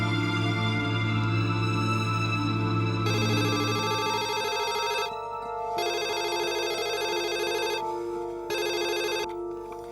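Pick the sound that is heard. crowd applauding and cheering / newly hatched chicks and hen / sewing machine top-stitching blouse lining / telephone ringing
telephone ringing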